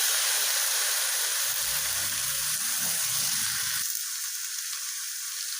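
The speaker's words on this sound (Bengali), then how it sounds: "এখন আলু আর পেঁপেগুলো এর মধ্যে দিয়ে নিচ্ছি।" Potatoes and raw papaya pieces tumble into spices frying in a pan for a Bengali curry. A steady close sizzle and hiss swells with a low rumbling surge as the pieces land, then settles to a quieter hiss.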